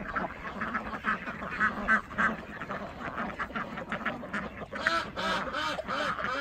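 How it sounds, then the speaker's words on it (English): Flock of ducks quacking busily in a new pasture, a steady overlapping chorus of close, moderately loud quacks with no talking. "Here we have the ducks beginning their complete and utter destruction of the new pasture."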